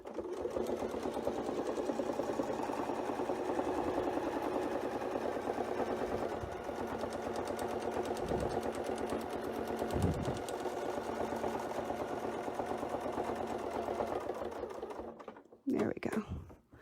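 Sewing machine adding a stitch or two at a time to fit curved flower-fluting pieces in an artisan quilting project, a steady close mechanical whir running almost continuously before stopping near the end.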